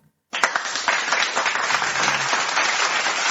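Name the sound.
applause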